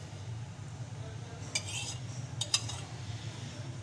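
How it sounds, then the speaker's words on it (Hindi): A tablespoon scoops yogurt into a glass of milk and sugar for a drink, giving two faint, brief clinks against the glass over quiet room background, with no talking. "दही इसमें मैं 3 बड़े चम्मच ऐड कर रही हूँ।"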